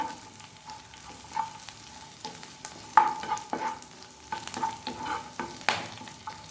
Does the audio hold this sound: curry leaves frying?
yes